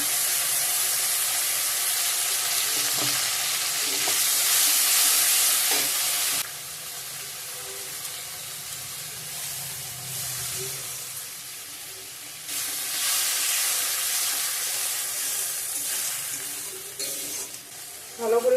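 A paste of onion, ginger and chili sizzles and fries in a pan while being stirred, a steady close hiss with scraping that swells and eases over about eighteen seconds, with no talking.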